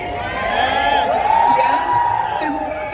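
Crowd cheering and whooping at the Amar Singh Chamkila live trailer launch, a loud sustained roar of voices with shouts rising over it throughout.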